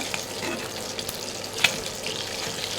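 Fish crackles and hisses steadily as it is fried crisp in hot oil, a close continuous sizzle with one sharp pop near the middle.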